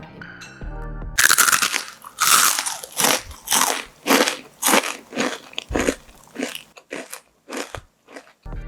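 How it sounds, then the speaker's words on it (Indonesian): Crispy accordion-cut potato is bitten and chewed up close, a loud run of sharp crunches repeating in a steady rhythm, each crackling bite followed by quieter chewing. "Yang ini enak banget, teksturnya renyah."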